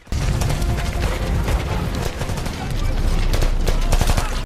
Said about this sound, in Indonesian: Situasi di tempat tersebut masih bising dengan suara tembakan.